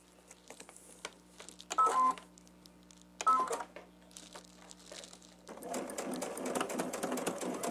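A sewing machine stitching quilt block pieces runs in short bursts, two brief runs separated by pauses and then a longer continuous whir at the end, fairly quiet and close with light fabric handling sounds.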